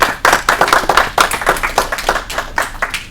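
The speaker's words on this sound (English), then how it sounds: "Give yourselves all a round of applause." An audience claps at the close of a Podcamp Pittsburgh conference session, a steady burst of many hands filling the room before it tapers off.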